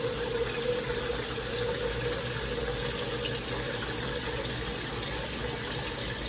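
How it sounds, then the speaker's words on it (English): Water runs steadily from a Cocojor micro bubble shower head, a constant loud hiss and spray with no breaks, alone. "it's a regular water like this. That's the shower."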